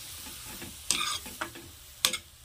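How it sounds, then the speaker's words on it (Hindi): A methi, potato and pea sabzi gets stirred in a pan, with a faint sizzle underneath and a few sharp scraping strokes of the spoon against the pan. "तो देखिए, इस तरह से हम सारा सब्जी मिक्स कर लेते हैं।"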